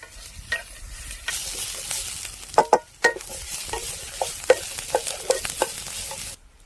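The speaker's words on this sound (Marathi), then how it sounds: "खोबरं पण आपण चांगलं लाल होईपर्यंत परतून घेऊया." Onion and coconut frying and being stirred in a pan, with sharp spatula clacks and scrapes repeating over a continuous sizzle that cuts off abruptly at the end.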